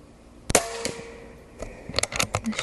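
An Umarex Origin .25 airgun fired at a target: a sharp, close snap followed by a quieter second crack, then a cluster of light clicks and ticks as the shooter handles the gun.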